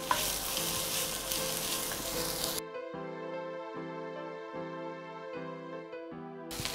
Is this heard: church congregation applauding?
no